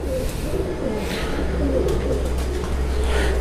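Female golden-breed pigeon in a loft in Multan, giving soft, low, throaty coos close by with no one speaking.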